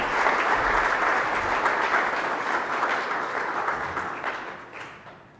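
A room full of guests at the final Seychelles Marine Spatial Plan ceremony gives a round of applause, dense even clapping that holds steady before slowly fading toward the end.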